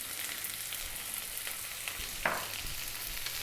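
Onion sizzles and fries in a pan over above-medium heat for a vegetable biryani, giving a steady close hiss with one brief stir or clatter partway through.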